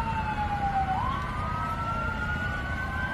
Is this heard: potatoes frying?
no